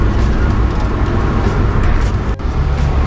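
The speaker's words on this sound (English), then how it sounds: "This car is so loud now because I took all the deadening out." Inside a car at around 100 with its sound deadening stripped out, a loud, constant low-pitched road and engine drone filling the cabin, with a brief knock or thump near the end.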